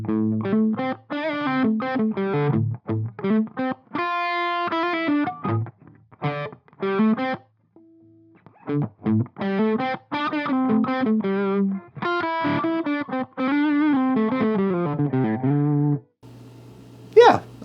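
An electric guitar plays choppy riffs and sustained chords through a distortion pedal, a distorted, effects-laden tone, with short pauses between phrases.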